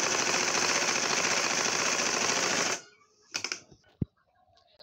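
A sewing machine stitching fabric for a round baby frock runs in a fast, continuous rattling burst for about three seconds, then stops abruptly, followed by a few faint handling clicks and a single sharp tap.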